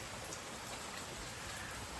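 Heavy rain on a farm pours down in a dense, steady hiss, unbroken and fairly faint, with no voices.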